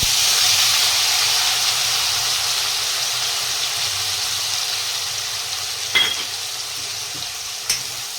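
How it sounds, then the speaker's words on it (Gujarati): Green garlic, dried red chillies and asafoetida sizzle steadily in hot oil, a loud constant frying hiss that eases slightly over time, with a couple of brief clinks near the end. "લસણને આપણે થોડી વાર શેકાવા દઈશું તેલમાં આ રીતના"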